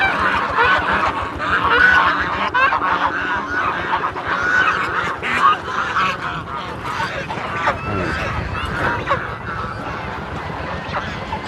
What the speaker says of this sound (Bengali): দেখেন রাজহাঁস খেলা করতেছে